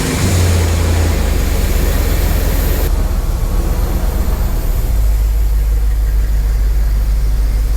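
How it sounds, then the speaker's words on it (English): Dodge truck engine starting up and settling into a low, steady idle, close by and loud with no voices. "Now let's fire up every single vehicle so I can reorganize."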